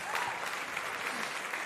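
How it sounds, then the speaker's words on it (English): A short burst of dense clapping for a caller named Dave, who is phoning in from a wedding party, steady and fairly close with no voices over it. "Big round of applause for Dave for listening to us during a wedding party."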